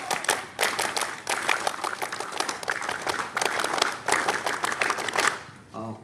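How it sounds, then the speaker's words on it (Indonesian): A school scout assembly audience performs the scout clap twice in unison, with loud rhythmic bursts of clapping separated by brief pauses, ending with a short tail of chatter. "2 kali tepuk pramuka"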